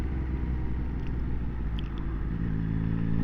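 A 2024 Yamaha XSR900 motorcycle on the road, a steady low engine rumble with wind noise under the rider, holding a constant drone and shifting pitch slightly as a gear change goes through.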